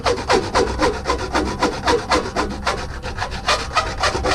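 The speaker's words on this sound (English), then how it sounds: "we're just going to deburr the side we just cut." Hand deburring tool or file scraping along the freshly cut edge of a replacement RV escape hatch frame, giving a steady series of rhythmic rasping strokes, close and fairly loud, with no talking.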